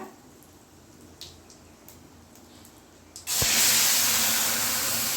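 White urad dal dropped into hot oil with asafoetida hits with a sudden loud sizzle that stays as a steady bright hiss after a quieter stretch of faint kitchen clatter.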